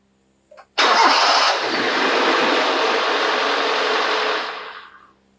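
A car engine cranks briefly and then catches, settling into a loud, steady run for several seconds before cutting off, with no voices.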